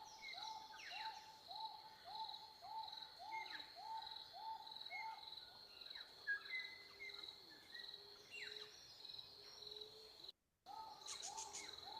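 Birdsong drifts in from outside a room: a repeated, evenly spaced call over a steady high insect drone, all faint and distant, with a few sharper chirps near the end.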